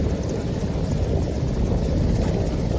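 An army helicopter carrying election polling staff thunders steadily with a dense, continuous rotor and engine roar, close and loud, with rapid blade chop throughout and no voices.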